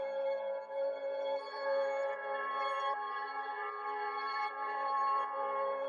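A dark, droning synthetic soundscape of layered sustained tones, steady and moderately quiet, slowly shifting with no voices or percussion.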